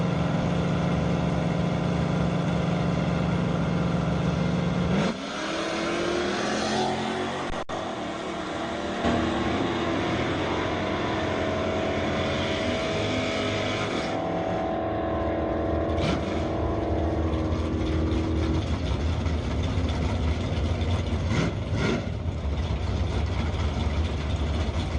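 Engine of a Trans Am drag racing car at a drag strip during division ET finals, a steady loud rumble with idling and revving that shifts in pitch, near and continuous with no talk.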